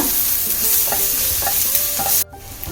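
Pav bhaji masala fries in a foaming mix of oil and butter with a loud, continuous sizzle up close, which drops off sharply near the end.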